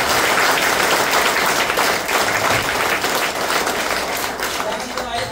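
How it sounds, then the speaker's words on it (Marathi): Strong, steady applause from a crowd gathered at a training session, honouring an army man; the clapping stays loud and dense throughout, easing slightly toward the end, with chatter mixed in. "त्या व्यक्तीसाठी जोरदार टाळ्या झाल्या"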